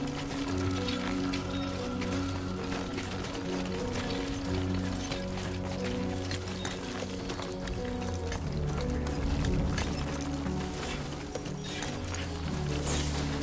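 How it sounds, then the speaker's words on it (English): Rain falling in the video game Death Stranding 2, a steady patter under a loud layered game soundtrack with low sustained tones, continuing throughout. "Great. Rain."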